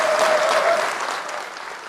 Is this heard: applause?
yes